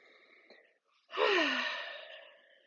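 A single deep breath taken during a slow yoga flow, a long, soft airy exhale swelling then fading after a quieter breath in, close and gentle with no talking.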